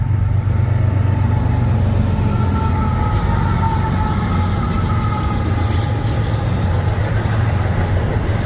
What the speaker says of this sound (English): There's more Norfolk Southern line coming in. This one's got 3 locomotives.